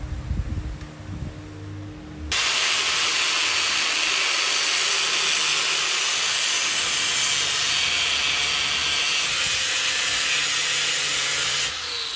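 An angle grinder bites into a heavy-duty metal shelf, giving a loud, continuous high-pitched cutting whine for about ten seconds after a short rough start, with no talking.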